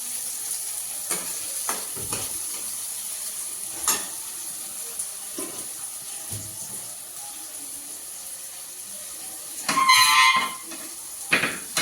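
A garlic and onion tadka for saag sizzles softly in the pan, broken by a few scattered clinks and a louder hissing burst near the end. No voices are heard.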